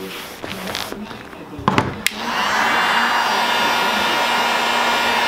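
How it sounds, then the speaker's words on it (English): A heat gun blowing on boat bow side panel upholstery, starting after a few clicks and handling knocks and then running as a steady loud whooshing roar. "using the heat gun is also going to be able to, how we're going to be able to wrap it all the way around"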